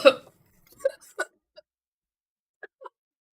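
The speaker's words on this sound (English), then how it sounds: "I'm so in danger of having hiccups." A person hiccups indoors during a gaming session: one sharp hiccup, then a few softer, spaced hiccup sounds in otherwise quiet surroundings.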